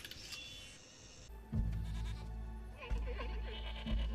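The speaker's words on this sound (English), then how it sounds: "I love the multi-horned sheep" Multi-horned sheep bleat from a TV drama soundtrack, a few quavering bleats heard over a low rumbling score and background sounds.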